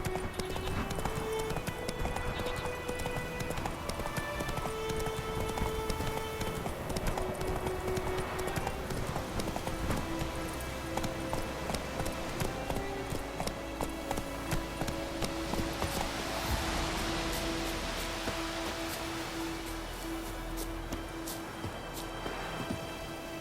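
Roach, a horse in The Witcher 3, gallops with steady, close, rhythmic hoofbeats that continue without a break through the whole stretch.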